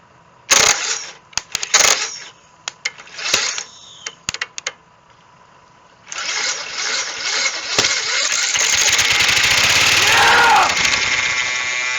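An old lawn mower that sat for years has its sticky starter pulled, giving scattered clanks and rattles before a long, loud mechanical cranking churn that builds and holds toward the end.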